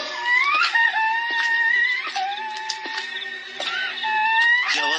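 An eerie crying voice effect for a horror story: wavering, high sobbing wails that rise and fall in repeated phrases, continuous and fairly close, with no talking over it.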